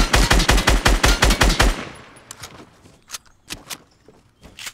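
A FAMAS rifle in a video game fires a rapid, loud burst of about a dozen shots, followed by a few scattered single shots and softer game sounds.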